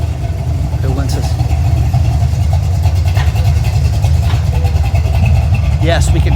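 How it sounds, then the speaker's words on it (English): A passing car's engine drones low and steady throughout, heard under ongoing talk on the street. "Yes, we can hear your car."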